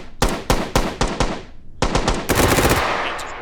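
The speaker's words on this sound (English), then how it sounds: "Fire a rifle like a pistol." Rifle gunfire in the VR shooting game H3VR, with several loud, sharp single shots in quick succession followed by a rapid burst of fire and trailing reverb, close and dominant with no speech.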